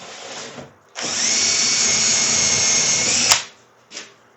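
A power drill bores through a wooden cabinet door, a steady high whine lasting over two seconds before cutting off with a sharp click, followed by brief quiet handling sounds.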